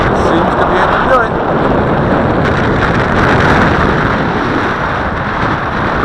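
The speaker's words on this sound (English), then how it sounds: "Very strong wind, folks." Strong wind of about 15 knots buffets the microphone outdoors, a loud continuous low rumble with gusty roughness across the whole stretch.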